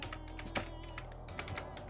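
Quick typing on a computer keyboard while entering a Chrome search, a close, crisp run of irregular key clicks with a couple of heavier strokes, alone and fairly quiet.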